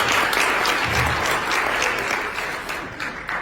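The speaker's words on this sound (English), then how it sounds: "Let's all give Julie a round of applause." A business leadership audience gives a steady, full round of applause for Julie at a doTERRA presentation; dense, even clapping fills the room with sustained loudness, tapering only slightly toward the end.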